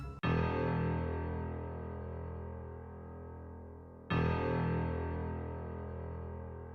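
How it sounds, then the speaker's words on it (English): Two long, deep bass notes, each struck once and left to ring and slowly fade, with a thick layered low tone of bass piano and synth key bass, and no voices. "So I layered the bass piano with this FL key bass"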